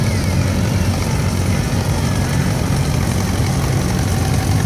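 Antique McCormick Deering, Farmall and John Deere tractors without cabs roll past in a small-town midsummer carnival parade, a loud continuous low engine rumble that holds steady and close throughout.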